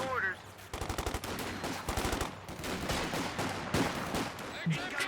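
Rapid bursts of machine gun fire from a Company of Heroes 2 battle, sharp clustered reports stuttering over several seconds with other game noise and a commentator talking over it.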